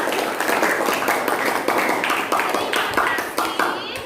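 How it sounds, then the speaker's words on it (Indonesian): Students clapping together in a classroom: a lively, close round of hand claps with uneven rhythm that carries on steadily for about four seconds. "Tepuk tangan untuk kalian semua."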